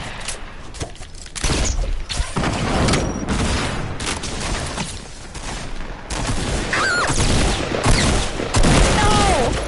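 Hunting rifle gunshots from a Fortnite match crack repeatedly in a loud, dense barrage of sharp bangs, overlapping explosions and steady battle noise that lasts the whole stretch.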